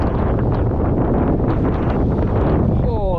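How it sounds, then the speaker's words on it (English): Wind buffets the microphone on a bay-side fishing pier in Ocean City, Maryland, a constant loud roaring rumble with gusty swells and a faint whistling tone near the end. "Oh, that wind is killing me."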